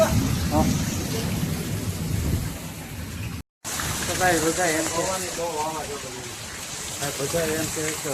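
Heavy rain driven by strong wind in a village, a constant hissing downpour with a short break in the middle, while people talk over it.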